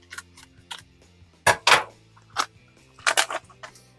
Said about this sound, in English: let's grab our scissors, and let's open it on up.